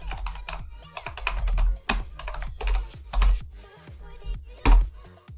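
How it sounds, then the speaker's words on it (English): A command is typed on a computer keyboard in a Linux terminal: a rapid, uneven clatter of close keystrokes, with a few heavier key presses standing out. "you need to type winetricks space Tahoma"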